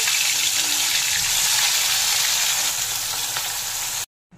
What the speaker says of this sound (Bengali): তেল গরম হয়ে গেছে, মাছগুলোকে ছেড়ে দেব।